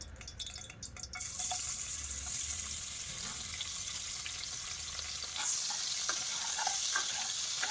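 Mutton keema bones dropped into hot oil, a quiet bump followed by a sudden rise into steady, hissing sizzle that continues close and even, with occasional small pops and crackles.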